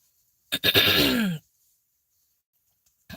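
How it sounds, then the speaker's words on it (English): A single throat clearing, close and fairly loud, a short rough burst followed by silence. "I gotta keep clearing my throat because I just ate"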